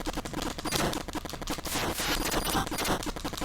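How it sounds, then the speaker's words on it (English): Rapid bursts of gunfire from enemy blimps in the NES shooter Gyrodine, dense rhythmic chiptune-style shooting blasts layered over game music, loud and continuous without talk. "They kind of hang around the screen, just keep shooting bullets at me."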